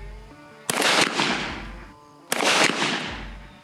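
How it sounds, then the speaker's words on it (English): Two loud, close shotgun blasts from a Browning A5 Sweet 16 firing Federal Game Loads, each a sharp crack followed by a rolling outdoor echo, spaced about a second and a half apart. "I'm gonna take just a few shots here, feel the gun for recoil and reliability."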